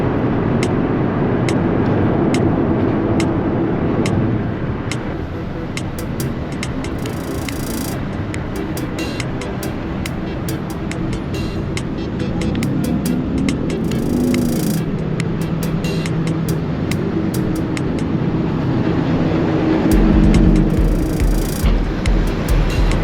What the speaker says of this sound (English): We're gonna have to fight through a little bit of traffic today to get to our destination,